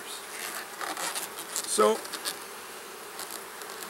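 Honey bees hum steadily around an open hive, a close continuous buzzing with individual bees passing near, and someone says a word partway through.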